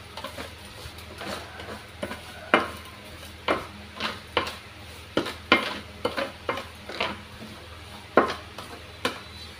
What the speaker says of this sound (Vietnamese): Rồi mình sẽ trộn nó đều lên nha.